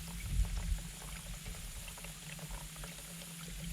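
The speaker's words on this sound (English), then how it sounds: "So we're just going to drain out the water." Water drains from soaked fishing bait into a bucket by a lake, a steady gurgling, splashing flow close by with a few louder low splashes near the start.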